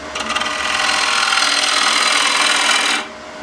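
A bowl gouge making a push cut into spinning wood on a lathe, a loud, steady, rough cutting hiss lasting about three seconds before breaking off, close by with no talking.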